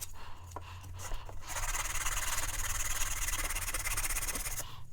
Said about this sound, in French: tout de suite le ponçage est assez satisfaisant aussi